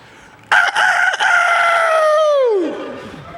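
A rooster crows once, close and loud, at an MMA press conference: a sharp, stuttering start swells into a long call that bends downward and fades, with no talk over it.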